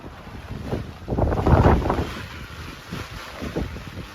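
Gusty wind on a rainy street buffeting the microphone in low rumbling bursts, with a faint steady hiss behind it.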